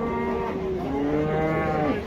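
Cattle at a livestock market in Taraz moo loudly and close by, long drawn-out calls overlapping one another over a steady crowd murmur.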